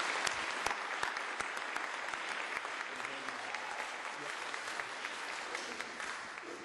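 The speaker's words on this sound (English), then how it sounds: "Let's give a round of welcoming applause to Craig." Audience applause welcomes Craig Goodwin as the speaker at a church Bible weekend session, a steady dense wash of clapping from a full room lasting throughout with no talk over it.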